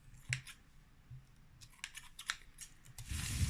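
Scissors snip through Christmas decoration material in several short, crisp cuts spread across the moment, fairly close and quiet, with a louder rustle of handling at the end.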